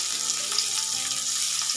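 Green beans and peas frying together in a pan give a brief, soft, even sizzle with faint music beneath.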